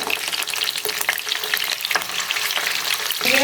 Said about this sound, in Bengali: এখন কোপ্তাগুলো আমি একটু একটু করে উল্টাই দিব।